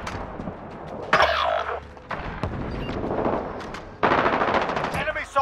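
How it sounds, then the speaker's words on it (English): Gunfire from the video game Call of Duty: Warzone, with loud bursts of rapid shots and sharp single reports crackling through the middle and end of the clip over a busy game mix. "People keep shooting me out of the sky."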